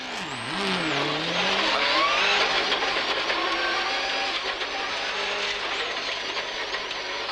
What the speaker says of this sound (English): Don't worry, just warming up the tyres.